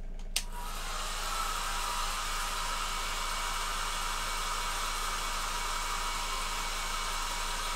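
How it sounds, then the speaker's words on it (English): Hairdryer blowing over freshly painted miniature aircraft: a brief click as it switches on, then a continuous, even, breathy whoosh held close and steady for the whole stretch. "we can grab the hairdryer and speed the whole process right up"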